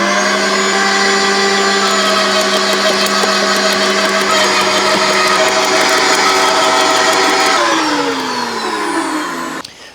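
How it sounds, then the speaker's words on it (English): Wood chipper shredding green wood in a vegetable garden, a loud steady motor whine with rapid chattering crunches as branches feed through, then the engine winds down near the end. "putting your wood through a wood chipper, because it shreds easier"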